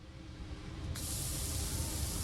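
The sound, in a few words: burgers sizzling on the grill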